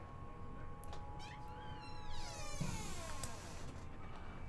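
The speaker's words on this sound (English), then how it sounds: "the cat's come to see us" A cat meows several times nearby, drawn-out wavering cries over a low steady hum in a room where an Amiga B2000 computer case is being worked on.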